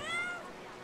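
A cat in the video game Brothers: A Tale of Two Sons gives a single short, clear meow with a falling pitch, heard alone.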